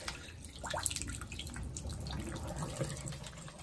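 Water from a 5-gallon fish tank being emptied in a bathroom, a steady splashing, trickling pour with drips, close and fairly constant throughout.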